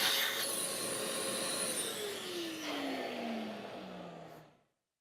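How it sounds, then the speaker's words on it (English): A shop vacuum sucks chips out of a freshly cut wood mortise, a loud steady whine with shifting pitch as the nozzle moves, then the motor spins down and stops. "I'm going to go ahead and vacuum this out"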